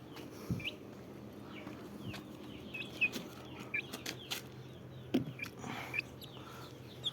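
Soft, high cheeps from a chicken chick with watery eyes repeat irregularly at close range, with a few faint clucks and scattered clicks in a quiet room.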